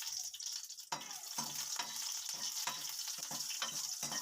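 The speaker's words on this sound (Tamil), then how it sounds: "லைட்டாக வதக்கிக்கலாம்." Whole dried red chillies sautéing in hot oil, a soft continuous sizzle broken by a series of spoon scrapes and taps as they are stirred, fairly quiet and without speech.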